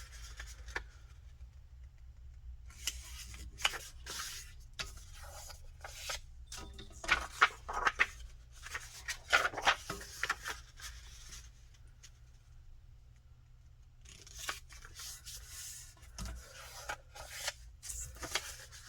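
Journal paper pages are folded in half by hand, giving soft, close rustles and crisp creasing sounds in scattered clusters, quiet against a low background hum.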